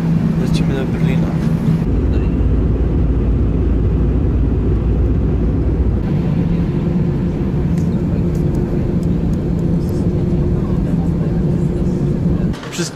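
Constant loud drone of a jet airliner cabin in flight, a low steady engine roar throughout with faint voices beneath.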